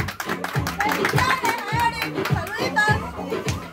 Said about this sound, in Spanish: Regalémosle un fuerte aplauso a Eric